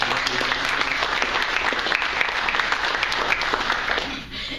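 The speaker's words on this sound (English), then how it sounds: "would you give a round of applause to those individuals?" Steady, dense applause from a large audience, many hands clapping continuously before it thins out near the end.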